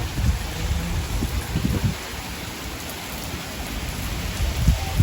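Heavy rain pours steadily, a dense continuous hiss with occasional low rumbles and thumps beneath it.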